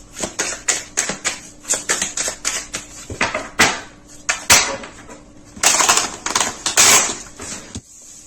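Oracle cards are shuffled and drawn in a fast run of sharp, close taps and papery snaps, with a few louder slaps and denser flurries toward the end.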